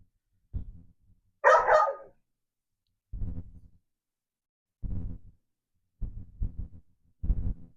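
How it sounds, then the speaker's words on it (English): A dog outdoors wanting to be let inside, giving a few muffled, distant-sounding barks and thumps spaced out across a quiet stretch, with one sharper, louder bark early on. "My dog really wants to come inside."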